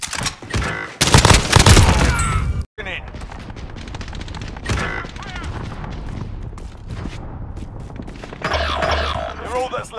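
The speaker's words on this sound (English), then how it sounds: "Hostile fire!" Gunfire in the video game Warzone crackles in loud, uneven bursts and volleys, some sharp and close, with in-game voices shouting between and over the shots.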